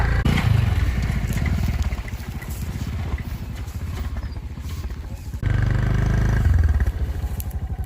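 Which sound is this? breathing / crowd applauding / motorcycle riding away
motorcycle riding away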